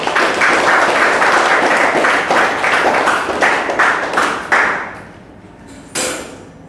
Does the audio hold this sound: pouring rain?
no